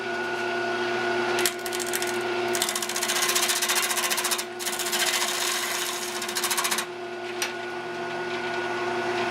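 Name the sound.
chiseling pine wood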